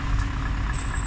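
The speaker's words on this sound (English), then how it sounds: "that's a nice Scania lorry" A Scania lorry sits in backed-up traffic on Caistor Road, Lincolnshire, giving a steady low engine drone with a faint high beep near the end.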